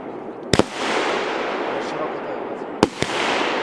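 Large 38mm firework shots launch high into the sky: a continuous loud hissing, crackling rush fills the scene, broken by two pairs of sharp bangs near the start and end, with people talking nearby.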